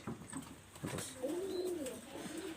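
Pigeons at a pigeon keeper's coop coo softly, with one low, drawn-out rolling coo rising and falling near the middle and a few shorter murmurs around it, over faint background hiss.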